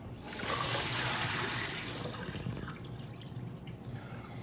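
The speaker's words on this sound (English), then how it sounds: "I'm going to strain our potatoes out of our salt water bath." Water pours and splashes steadily into a sink as potatoes are strained from a salt water bath, strongest at first, then settling into a softer trickle and drip.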